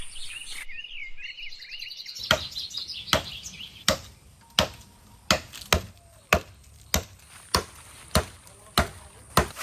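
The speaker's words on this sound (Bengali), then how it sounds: "এই বাঁশটা এবার কাটিমো।" Bamboo is cut outdoors in a village with sharp, evenly spaced chopping blows, about a dozen loud strikes at a steady rhythm, after birds chirp briefly at the start.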